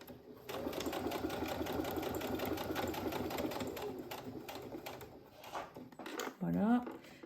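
Brother embroidery machine stitching a label, a fast steady mechanical whirr of the needle running close and continuous, then stopping as a voice speaks briefly near the end.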